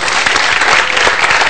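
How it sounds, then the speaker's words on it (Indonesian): Studio audience applause fills a TV health talk show set, a dense, steady burst of clapping from a full crowd, loud and close throughout with no talking over it. "Tepuk tangan buat Denny."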